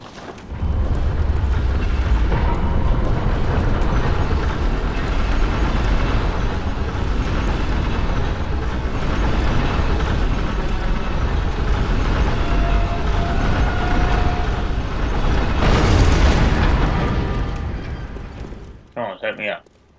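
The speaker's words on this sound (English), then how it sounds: "Church cannon." Church cannon firing in the video game Bloodborne The Old Hunters, a heavy, sustained rumbling boom with a deep low end that rolls on for many seconds before cutting off abruptly near the end.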